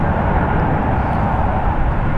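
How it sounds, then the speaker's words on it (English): A United Airlines Boeing 757-200 lands at San Francisco International Airport, its broad, steady engine roar holding loud and continuous with no talk. "Here we have United Airlines Flight 433 coming in from Boston"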